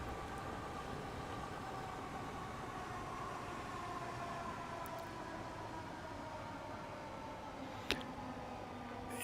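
Southeastern Class 465/9 electric train braking to a stop, heard from the passenger saloon in a train simulator game: a steady, fairly loud rumble with faint tonal whine lasting throughout, one short clunk near the end.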